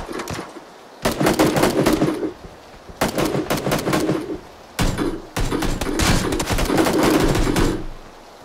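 Gunfire in the video game PlayerUnknown's Battlegrounds: four loud, close bursts of rapid shots, each lasting about a second, separated by short quiet gaps.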